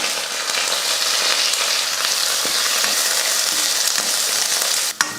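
Chopped onions fry in hot oil with garlic and curry leaves for a broad beans poriyal, a steady, close, crackling sizzle that ends with a brief utensil clunk against the pan.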